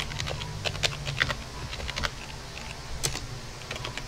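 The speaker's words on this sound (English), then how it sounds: "All you have to do is type aireplay-ng," Keys on a computer keyboard tapped to enter a terminal command for a Wi-Fi monitoring tool, a quiet, irregular run of close, light clicks and taps over faint room hiss.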